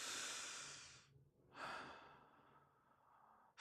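A long, deep breath, drawn in and let out slowly and close, two airy swells with a short pause between, in a quiet guided-exercise setting.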